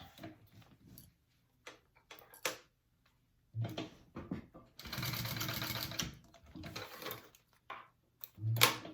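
A sewing machine bastes a bag strap in short bursts of rapid stitching, with a longer run in the middle, close by, alongside handling clicks and quiet talk.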